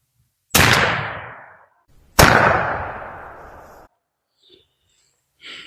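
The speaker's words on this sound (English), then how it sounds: "And we'll be shooting these Remington Extra Long Range number 6s at it." Two loud shotgun blasts from a Stevens shotgun with an extra full choke, firing Remington Express Extra Long Range #6 shot loads, each followed by a long decaying echo, spaced about a second and a half apart outdoors.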